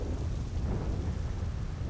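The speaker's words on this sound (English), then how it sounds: "The thunderstorms would be so much better if it didn't have that just constant rumble." Constant low thunderstorm rumble in the GTA roleplay video game, a steady broadband roar with rain-like hiss that holds evenly throughout with no distinct claps.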